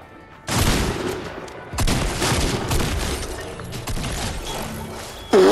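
Repeated shotgun blasts in the Fortnite video game, several loud booming shots in irregular bursts with a sharp new blast at the end, no talking over them.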